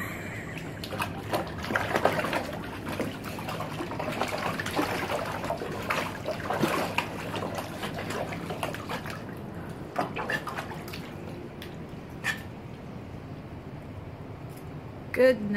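Garden hose water spraying and splashing into a pool where Norfolk Terriers play, a continuous trickling, sloshing rush with scattered splashes, while people talk over it.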